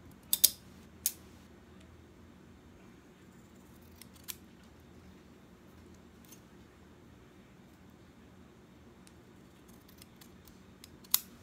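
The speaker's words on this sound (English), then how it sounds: "then you're gonna basically just cut to make your little flag the right size" Scissors cutting Halloween-themed paper into a small flag shape make a few faint, brief snips scattered across a quiet room, near and soft.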